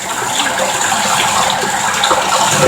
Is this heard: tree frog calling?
no